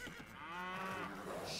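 A single drawn-out moo from a cow in a video game, fairly clear and sustained over faint game background noise.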